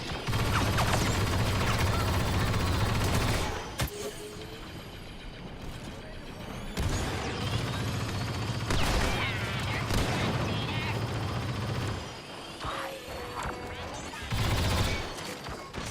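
Bursts of sentry-gun fire in the video game Star Wars Battlefront 2, several loud sustained volleys broken by short pauses and sharp cracks.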